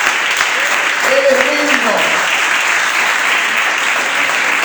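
Steady, dense applause from a church congregation fills the clip from start to finish, with a voice speaking briefly over the clapping.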